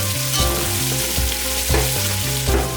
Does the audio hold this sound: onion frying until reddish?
yes